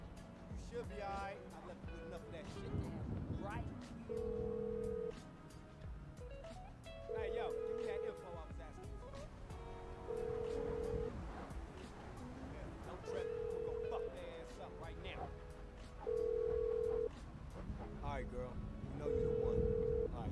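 An outgoing phone call rings back in a repeating series of about six steady electronic tones, evenly spaced, under busy game sounds and people talking.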